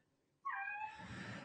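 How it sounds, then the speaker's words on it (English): A house cat lets out a single loud, close meow that starts abruptly and trails into a breathy, rough tail, with no talking around it. "Sorry, that's my cat."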